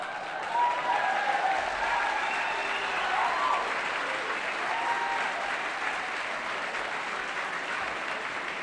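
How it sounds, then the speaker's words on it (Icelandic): Sustained applause for a girls' school choir at an open rehearsal in a concert hall in Kópavogur, Iceland; even, moderately loud clapping from a seated audience continues throughout. "Þetta átt að klappa fyrir þeim stelpunum Álfheiður."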